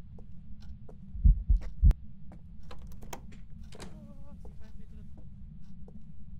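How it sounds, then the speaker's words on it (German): Heartbeat sound effect in the Phasmophobia ghost-hunting game: a few heavy low thumps in a quick cluster early on, then faint scattered clicks and a brief voice over a steady low hum. "Ja, der gerade Herzschlag."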